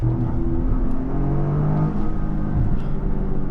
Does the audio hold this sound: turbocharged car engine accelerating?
yes